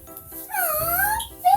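A small dog whimpers and whines softly up close, a thin wavering cry that rises and falls over about a second and ends in a brief higher yelp.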